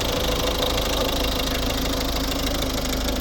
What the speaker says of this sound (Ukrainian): Ну ось і робота двигуна.